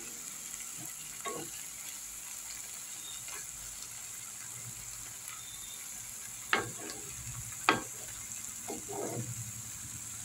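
Masala frying in a pan for a chickpea curry over a lowered gas flame, a steady soft sizzle with a few louder clinks and stirring scrapes partway through.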